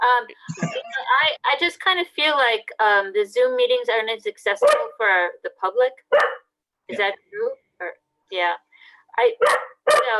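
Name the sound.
dog barking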